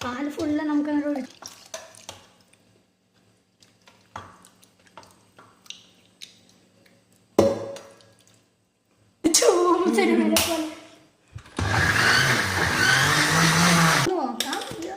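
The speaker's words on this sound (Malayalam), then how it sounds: "ഫസ്റ്റ് ടൈം മിക്സി അടിക്കാൻ പോകുന്നു ഞാൻ" Mixer grinder blending an Oreo milkshake with milk, a loud steady whirring burst lasting a few seconds near the end, after stretches of talk and kitchen clatter.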